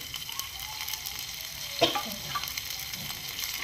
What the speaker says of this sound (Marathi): फोडणी छान उकळू द्यायची आहे आपल्याला